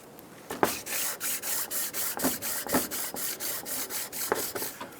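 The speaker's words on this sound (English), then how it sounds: "we're going to clean both sides using our sanding block" Steady back-and-forth rasping of a sanding block cleaning a 2003–2008 Honda Pilot intake manifold spacer, repeated strokes in an even rhythm, close and fairly loud.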